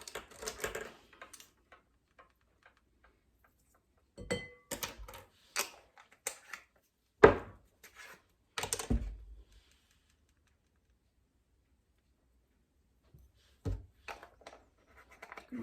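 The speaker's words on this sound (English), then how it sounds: "we want to whisk that with 1/4 of a cup of milk" Eggs being whisked with skim milk, salt and pepper for a breakfast pizza, heard as quick bursts of sharp tapping and clicking separated by silent pauses, close and fairly loud.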